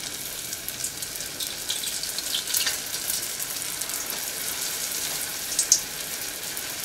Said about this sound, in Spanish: en lugar de aventar mis egg rolls, los voy a deslizar por las paredes de mi olla, así no te va a brincar el aceite